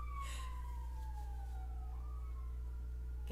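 Emergency vehicle sirens wailing outside in town, a falling, sweeping tone heard at a distance over a constant low rumble, with no voices.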